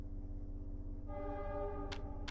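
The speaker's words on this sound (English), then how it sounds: "It's the crop train." A crop train in a railway video game rolls along with a steady low rumble, then gives two short, loud horn blasts near the end, with no talk.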